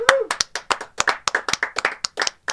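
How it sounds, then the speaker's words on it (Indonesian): A small group claps in crisp, separate bursts, close and fairly loud, on a podcast set, with a brief voice at the very start. "Tepuk tangan."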